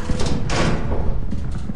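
A spider in a video game bashes through a door with a series of heavy thuds and a loud crashing slam, loud and close, with a brief clatter at the end.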